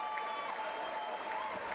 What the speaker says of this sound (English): even the German supporters are applauding